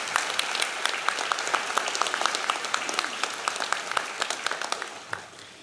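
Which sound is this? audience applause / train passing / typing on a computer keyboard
audience applause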